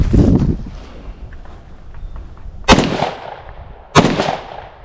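Two sharp, loud gunshots crack out about a second apart at an outdoor shooting range during a stance-and-shoot drill, after an earlier burst of noise, with quiet background in between.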